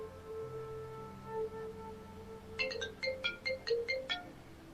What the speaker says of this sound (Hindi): लो फोन आ गया उसका।